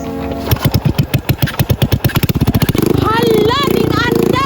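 A motorcycle engine being started without a key, sputtering through a run of rapid cranking pulses before catching and settling into a steady idle, close and loud, with voices talking over it.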